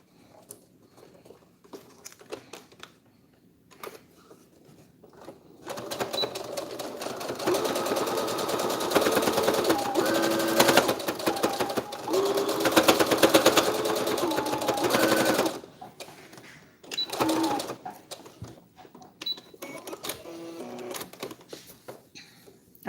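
A sewing machine stitches a fabric face mask in a close, rapid mechanical patter lasting about ten seconds, with short bursts of stitching and fabric handling before and after, in a quiet room.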